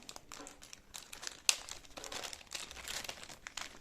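Plastic packaging of a Starcom lapel microphone crinkles and crackles up close as it is opened by hand, with a sharp snap partway through and irregular rustling throughout.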